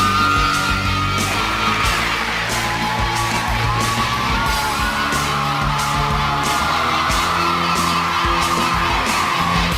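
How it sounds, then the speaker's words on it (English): A room full of kids cheers, whoops and yells at length as Janice Dickinson enters at her modeling agency, a loud, dense crowd roar with shouts over it throughout, and music in the background. "The kids all stood up, applauded, and cheered."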